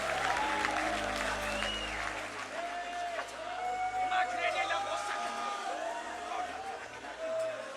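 Church congregation applauding at a youth conference, a faint, steady patter of many hands spread across the hall, with a voice and crowd murmur over it.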